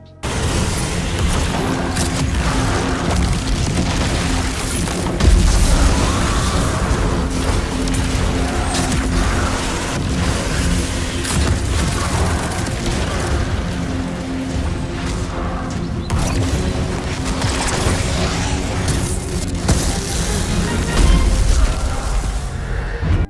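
Destiny 2 Titan abilities in gameplay: a shackle grenade, a tractor cannon blast and a fist of havoc slam, heard as dense rumbling booms, bursts and crashes over continuous game noise for over twenty seconds.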